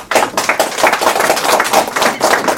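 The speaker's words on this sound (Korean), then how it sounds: "박수!" A crowd claps loudly at a Korean election campaign speech in Jeonju for the 22nd general election, a close, dense burst of hands with rhythmic surges in the clapping.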